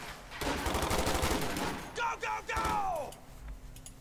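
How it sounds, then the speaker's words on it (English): Soldiers fire from the windows of a house in the Company of Heroes 2 PC game, a dense burst of rapid gunfire with shouting voices and spoken commentary over it. "start shooting them from the windows and stuff"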